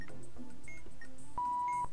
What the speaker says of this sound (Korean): 내가 빨간색 누르니까 삐삐 어